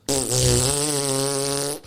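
A voice imitates a fart with a loud, buzzing, sustained raspberry lasting under two seconds, close up and alone with no other sound around it.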